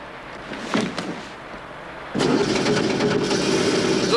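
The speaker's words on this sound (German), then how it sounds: "Betätigen Sie den Anlasser." A car engine is cranked by its starter, here by touching the two starter wires under the dashboard, and catches at about two seconds into a steady, loud idle after faint shuffling and knocks.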